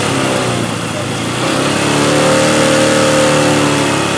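A motorcycle engine is revved during a battery and charging check in a workshop, the note climbing and holding strong after a brief dip, close and loud with people talking nearby.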